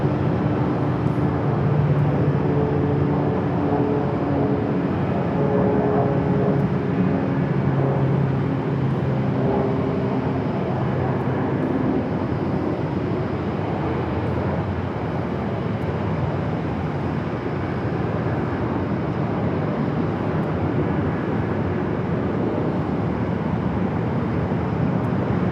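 An airliner lands on runway 25 left at Phoenix Sky Harbor, heard as a long steady roar of engine and airflow noise that stays loud and broad throughout, with no voices.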